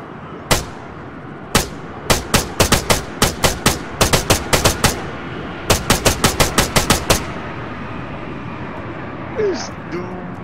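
Loud gunfire in the video game Arma 3: bursts of sharp, close shots, single cracks then rapid strings of rounds, ending in a short spell of quieter ambient noise.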